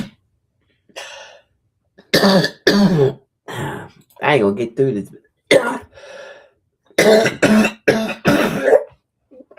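Someone coughs and clears their throat in a series of sharp, close, loud bursts separated by short pauses, with a brief spoken line mixed in among them.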